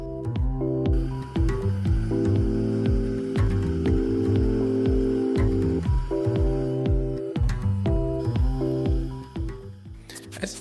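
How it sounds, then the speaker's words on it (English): A portable bandsaw fitted with a bimetal blade cuts out a knife profile, its motor humming in a low steady tone with shifting pitch and intermittent clicks and ticks as the cut progresses, close and continuous. "I go over to my portable bandsaw with a bimetal blade to cut out the rough profile of the knife"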